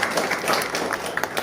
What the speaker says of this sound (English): Clap for Ruby, come on.